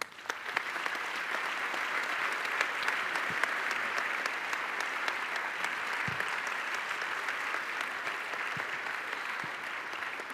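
Sustained audience applause fills a hall at an Italian economy and development award ceremony, a dense, even patter of many hands clapping without pause.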